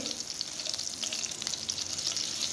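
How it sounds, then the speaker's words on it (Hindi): Julienned ginger sizzles in hot oil for a moong dal tadka, a steady, soft crackling fry heard close with no voices. "हल्का सा हम इसको अदरक को भी भून लेंगे।"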